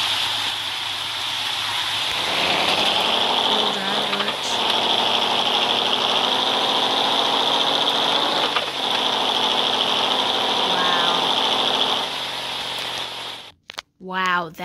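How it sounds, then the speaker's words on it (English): A new car's engine runs steadily for about thirteen seconds at a moderate, constant hum, with people talking over it before it cuts off near the end. "just listen to the engine, because it sounds really good"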